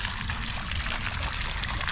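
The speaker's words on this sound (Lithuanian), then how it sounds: "fontanėlis" A small garden fountain trickles steadily, with a continuous close, moderately loud splashing and dribbling of water that carries on without pause.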